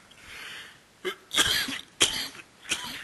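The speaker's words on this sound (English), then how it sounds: "Excuse me, to start coughing." Three separate coughs in a quiet room at the start of a meditation webinar, each a sharp burst followed by a rougher tail, spaced about a second apart, fairly close.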